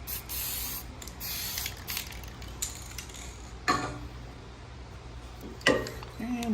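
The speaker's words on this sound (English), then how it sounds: "Give this a spray." Lubricant is sprayed onto a lathe bed in a workshop in a few short, close hisses, with light mechanical clicks and handling noises between bursts against a steady low hum.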